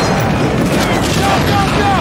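Covering gunfire in the World War II shooter game Medal of Honor Frontline, set during the D-Day landing: a dense, continuous wash of rifle and machine-gun fire with booms layered throughout, close and loud for about two seconds.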